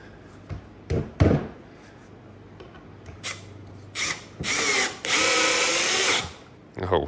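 A Milwaukee 12V subcompact drill driver on its screw setting whirs in short bursts, several brief pulses followed by two longer sustained runs, close and clear against a quiet room.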